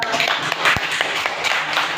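Several people clapping together in a loose, quick rhythm, a steady patter of hand claps throughout.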